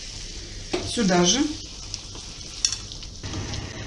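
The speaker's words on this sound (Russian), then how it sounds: "Их сильно зажаривать не нужно, просто чтобы они зарумянились, стали мягкие." Meat and vegetables sizzle and are stirred in a pan while making pea soup with smoked ribs, a steady soft frying hiss with scraping stirs, under a short spoken phrase.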